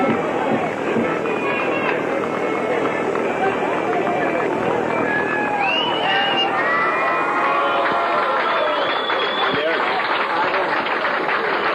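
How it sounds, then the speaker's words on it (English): Spectators in the stand at the Omagh versus Dromore minor championship final applaud the Omagh minor team amid a constant, distant crowd roar with shouts and cheers, while a commentator talks over it throughout. "they're getting a great round of applause from the support and the stand here on the left of the field"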